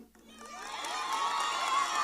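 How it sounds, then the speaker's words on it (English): A graduation crowd at Signal Hill Secondary's 2024 ceremony breaks into cheering and shouts, rising from a brief lull into a sustained, loud roar of voices and whoops. "give them a lusty round of applause right now and call their name"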